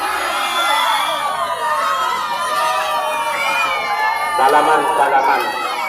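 A large crowd shouts and whoops at a night-time tug-of-war contest held for the 17 August celebrations in Pasuruan, with dense overlapping voices and excited cries sustained throughout, including children's shouts.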